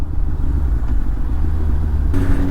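A Yamaha FZ1 Fazer 1000 four-cylinder motorcycle cruises in fourth gear at about 2500 rpm, a steady low engine rumble with wind buffeting, loud and close, with no speech.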